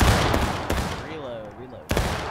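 Musket volley in the Civil War shooter War of Rights: loud cracking shots, first a few scattered ones, then after a pause a final sharp blast, with voices calling orders.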